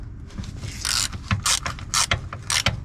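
A ratchet clicks in quick irregular bursts while removing the oil pan bolts under a Nissan S13 with an SR20 engine, close up and crisp, with no talking.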